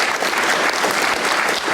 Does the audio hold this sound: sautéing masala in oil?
no